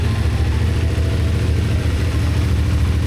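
A CF Moto 450SR motorcycle engine idles while warming up before an oil change, giving a steady, close, low throbbing pulse with even rhythm and no revving.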